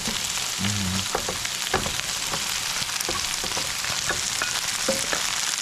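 Brussels sprouts sauté in a hot pan with a steady, bright sizzle throughout, broken by a few sharp clicks and scrapes from stirring, close by with no voices.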